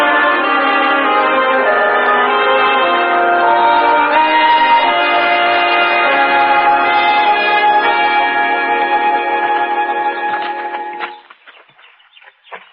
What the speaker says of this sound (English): before another funeral bell begins to toll